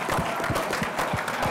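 Audience at a leadership conference session on inclusive economic development giving a round of applause, a steady dense wash of clapping throughout, fairly loud and continuous.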